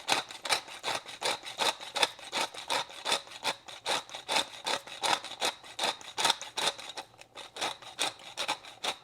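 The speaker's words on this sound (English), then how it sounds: "I just got my pepper grinder filled back up" A pepper grinder is twisted by hand over a pot of corn soup, giving a quick run of close, dry, rhythmic gritty cracks that repeat steadily and clearly with no talking.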